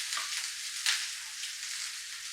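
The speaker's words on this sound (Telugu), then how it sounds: "అలాగే కొన్ని ఆవాలు చిట్టుపట్లాడుతుండగా ఆనియన్," Mustard seeds and cumin splutter in hot oil as onion is added to the pan for oats upma, giving a bright steady sizzle with a few sharp pops, close by and without voices.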